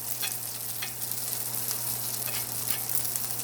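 A New York steak sizzles steadily in a hot pan while being basted with butter, a continuous crackling fry with brief spattering pops and no talk.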